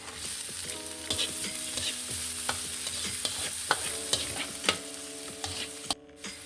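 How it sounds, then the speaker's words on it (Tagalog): Ginger, minced garlic and shallots sauté in a pan, a soft continuous sizzle broken by sharp clinks and scrapes of a utensil stirring against the pan, close and clear with no talk. "Then we're gonna saute our ginger, minced garlic, and shallots."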